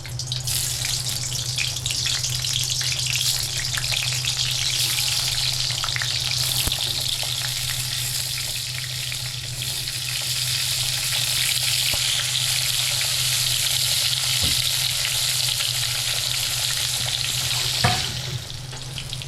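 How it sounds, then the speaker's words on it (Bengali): Steady, loud sizzling of pointed gourd frying in hot oil, with a constant hiss throughout and an occasional clink near the end; no one speaks. "তেলটা গরম করে নিয়ে আমি পটলগুলো এবার ভেজে নেব।"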